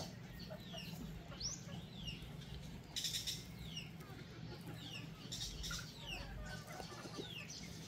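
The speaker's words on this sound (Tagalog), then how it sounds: "Tingnan nyo man itong manok to." A chicken clucks in a goat pen, perched atop a goat, with several soft clucks and a brief wing flap over steady farmyard background noise.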